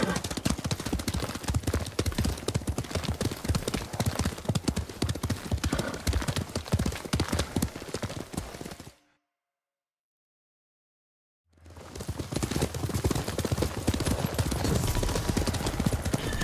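Horses with riders galloping off at speed, dense rapid hoofbeats near and loud, breaking off into a few seconds of silence before the pounding gallop resumes.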